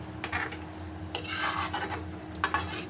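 Fried okra stirred into an onion and tomato masala in a pan, the spoon scraping and clinking against the metal in irregular strokes, with a faint sizzle underneath, close up and without speech.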